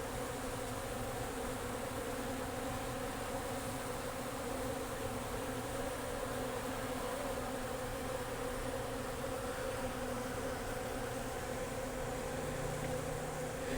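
Honeybees hum steadily around open-fed 2:1 sugar syrup, a continuous close, even buzz of many insects that runs on without a break.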